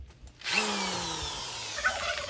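A power drill spins up close by, driving screws into the roof braces of a chicken tractor under construction, with one steady whirring run lasting about two seconds.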